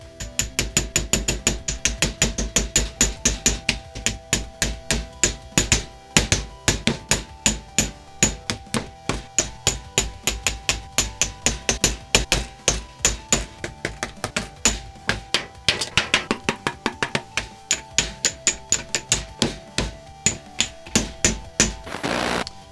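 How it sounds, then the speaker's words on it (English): Pieces of a panel are hammered to make them look damaged, giving loud, sharp, rapid strikes in quick bursts with brief pauses between runs. "I'm putting these pieces back in so that I can hammer them and make them look all damaged and stuff"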